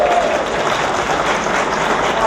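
Audience applause for a congressional candidate at a Republican Senate candidates debate, a steady wash of clapping from a small crowd throughout.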